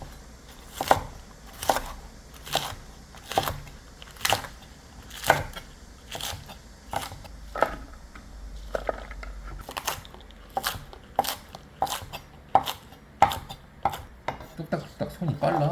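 Green onions being chopped with a knife on a cutting board while cooking Korean beef haejangguk, a steady series of crisp, evenly spaced chops, about one per second, close and clear.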